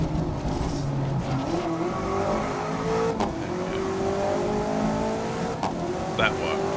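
Race car engine from GRID 2019 career mode, loud and close, droning steadily with shifting revs and gear changes, occasional brief tyre noises over a continuous motor tone.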